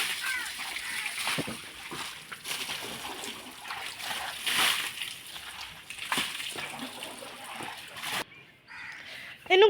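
Water splashing and sloshing as a buffalo is bathed with plain water, irregular close splashes and trickles with voices talking over them, then a brief quieter stretch near the end.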